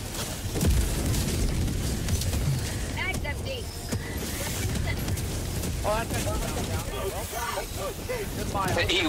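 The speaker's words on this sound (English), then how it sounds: "Firing orbital barrage, clear the area." Orbital barrage explosions in Helldivers 2 boom and rumble repeatedly amid chaotic battle noise, heavy low blasts layered with clattering debris and gunfire, while several voices shout over the din.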